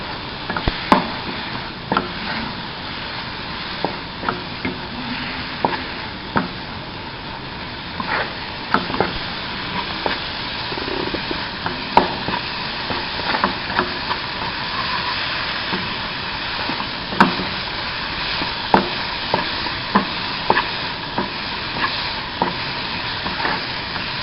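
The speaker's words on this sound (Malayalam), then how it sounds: "ഇത്രയും ചേർത്ത് നന്നായി ഇളക്കി പച്ചമണം പോകുന്നത് വരെ ഒന്ന് മൂപ്പിച്ചെടുക്കുക" Spices with black pepper powder sizzle steadily in a pan for a Kerala sardine fish curry, a constant frying hiss broken by regular scraping taps of a spoon stirring the mixture.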